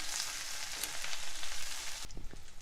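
Ginger-garlic paste fries with curry leaves in oil, a soft, continuous sizzle at close range that breaks off near the end with a few spoon knocks.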